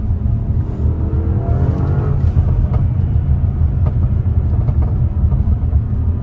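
Audi RS7 exhaust note: a loud, steady low rumble runs throughout, with a rising engine tone early on and several sharp pops and bangs crackling over it.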